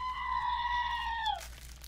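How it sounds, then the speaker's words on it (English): A screaming goat novelty toy lets out one long, loud, nasal goat-like scream that holds steady, bends downward and cuts off abruptly, heard close with nothing else over it. "the screaming goat"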